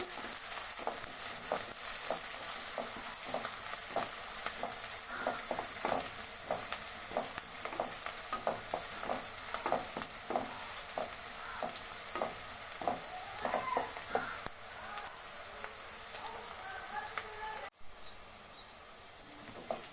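Onions and curry leaves frying in oil for an Andhra-style prawn fry, a steady close sizzle broken by frequent stirring scrapes, with no voices.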